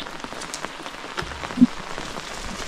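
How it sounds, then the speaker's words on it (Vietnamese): Rain falls steadily on surfaces outdoors, a constant soft hiss of patter with scattered sharper drop ticks, moderately loud and with no voices. "Đấy, trời thì khá là mưa cô bác ạ."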